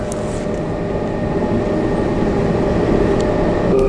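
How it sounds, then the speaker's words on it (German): Interior of a German S-Bahn commuter train riding at night, with a steady, loud low rumble and constant rolling drone from the carriage and no speech. "Schaut mal bitte, wie viel jetzt gerade noch los ist in der S-Bahn."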